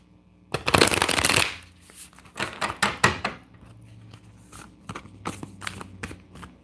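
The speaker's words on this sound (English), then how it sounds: "I'm actually going to give these a bigger shuffle." Tarot cards shuffled close up: a loud riffle burst followed by several quicker riffles and soft tapping as the deck is squared, alone without talk.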